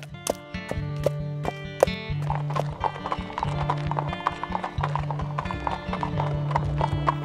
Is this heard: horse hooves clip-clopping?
yes